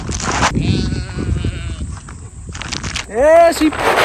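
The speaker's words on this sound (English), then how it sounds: "Yeah, sheep, sheep, sheep." Sheep on a homestead farm bleat over a busy background of shuffling and clattering; one loud, wavering bleat stands out near the end, following fainter bleats earlier, while a person speaks briefly.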